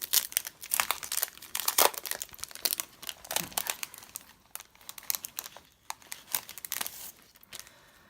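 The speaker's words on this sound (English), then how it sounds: "Let's open it up, excuse the crinkling." Plastic sticker packaging crinkles and crackles as it is opened by hand, a dense run of sharp, close rustles that come in uneven bursts, fairly quiet and without voices.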